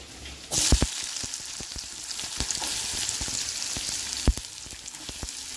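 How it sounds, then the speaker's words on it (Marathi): Cumin, mustard seeds and onion hit hot oil for a roasted onion chutney, giving a steady broadband sizzle with a sharp burst near the start and scattered pops and crackles throughout. "चला आता टाकते त्याच्यामध्ये जिरे, थोडीशी मोहरी आणि लगेच कांदा।"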